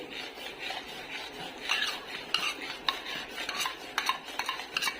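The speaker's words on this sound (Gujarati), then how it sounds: "સરસ મલાઈ એડ કરી અને આપણે એકદમ હલાવશું પાછું" A spoon stirs fresh cream into a thick, grainy cucumber batter for pedas, giving close, continuous scraping and squelching strokes against the pan that grow sharper and more rapid toward the end.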